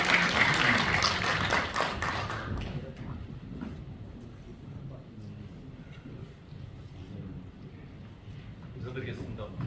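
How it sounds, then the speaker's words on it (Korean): Audience applause at the Korea Blockchain Enterprise Promotion Association's 5th anniversary ceremony greets the chairman coming to the stage, a loud burst for about two seconds that fades into quieter room noise with murmuring. "여러분 큰 박수로 회장님을 무대로 모시도록 하겠습니다."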